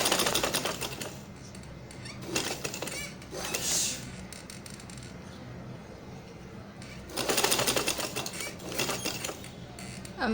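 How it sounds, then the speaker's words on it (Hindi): A sewing machine stitches the folded neckline of a kameez in two bursts of rapid, even clatter, with a quieter pause between them. "मैं दोबारा इसको सीऊँगी"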